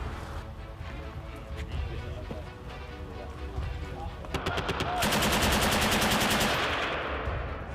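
A Browning M2 .50 calibre heavy machine gun fires long, rapid bursts of sharp, loud repeated cracks. The last few seconds are the densest and loudest, and a faint voice is possible underneath.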